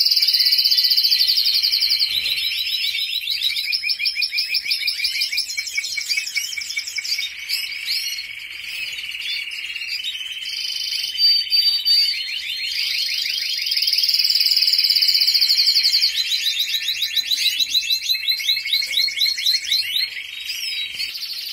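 A male cage bird sings in a contest cage, giving long, bright, high-pitched trills and rapid chirping phrases. The song is close and clear, repeated in bursts with short pauses, over a quiet background with no talk.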